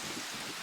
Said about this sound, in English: Apparently, it's really raining.